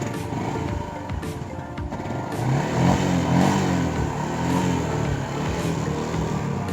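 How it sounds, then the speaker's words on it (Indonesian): A Yamaha MX motorcycle engine idles nearby after starting, with a steady mid-pitched putter that swells slightly and has a faint mechanical clatter. Nobody talks. "Oke, udah menyala mesinnya."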